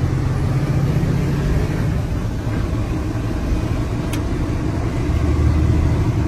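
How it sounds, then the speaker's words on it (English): A 2015 Freightliner truck with a Cummins engine drives down the road, a loud, steady engine and road drone heard from inside the cab throughout, with no talking. "2015 Freightliner with the Cummins engine."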